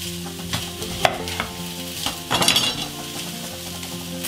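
Turkey pieces brown in a pot for broth, giving a steady close sizzle of frying meat with occasional clinks and scrapes of a utensil against the pot.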